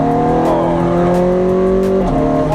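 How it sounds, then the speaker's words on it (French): A 4.3-litre V8 car rips past close and loud, its engine note climbing steadily in pitch under hard acceleration, then dropping abruptly as the driver brakes, over a roar of tire and road noise. "On leur a fait goûter un V8 4 litres 3"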